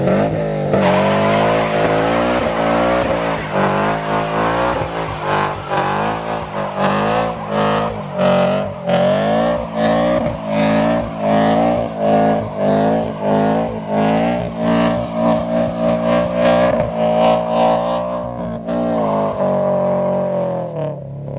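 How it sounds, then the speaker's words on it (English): Loud, sustained engine roar with rising and falling revs and tire squeal, a 2022 Subaru BRZ spinning its wheels in place for a long stretch. "can it do a burnout?"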